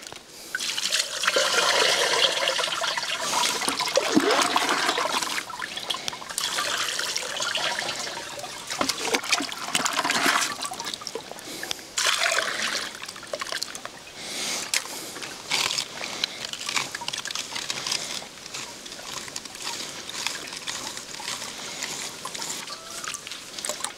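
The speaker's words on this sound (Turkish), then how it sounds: "Bunun üstüne temiz su dökerek kalanını iyice alabilirsiniz." Clean water poured over clay to rinse it, a steady splashing, trickling pour running continuously and fairly close, with no voices.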